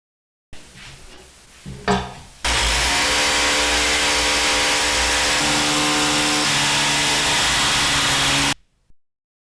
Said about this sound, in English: Additionally, I fix it with self-tapping screws.